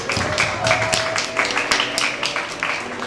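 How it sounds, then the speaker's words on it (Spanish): Audience applause at a school recital against gender violence, a dense steady clapping from a crowd sustained across the whole stretch, fairly close and lively with no talk over it. "I us demano un fort aplaudiment per a tots ells."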